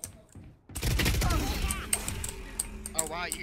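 Gunfire in the tactical shooter Valorant comes as rapid, loud bursts of sharp cracks. Excited voices talk over and between the shots.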